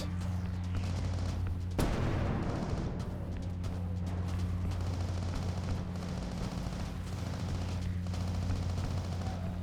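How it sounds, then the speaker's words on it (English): Mortar and gunfire in the war shooter game Heavy Fire Shattered Spear: dense, continuous automatic fire with a sharp heavy blast early on, followed by sustained rumbling bursts. "Mortars fired from the west."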